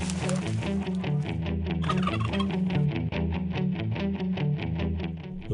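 Wild turkeys gobble in a rapid, rolling, rhythmic run of repeated notes, loud and close, with no talking.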